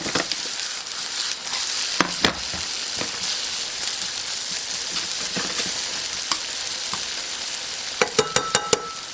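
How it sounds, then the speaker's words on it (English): Sliced eggplant sizzles steadily in oil in a frying pan, a constant crackling hiss broken by sharp clicks and taps of a utensil near the end. "I want to add a little extra oil in the frying pan around so I can move them around"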